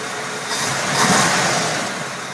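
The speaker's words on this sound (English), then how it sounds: "I'm going to go in there and step on the gas." A 1965 Chevy truck engine with a carburetor needing adjustment, run after sitting for years, revving loud and close in a brief swell that rises and eases back.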